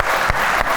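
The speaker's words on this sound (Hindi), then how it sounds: "तालियां आ जाएं भाई खवातीन के लिए" A studio audience claps for women drivers in a brief, dense burst of applause that sounds steady and fairly loud, with no voices over it.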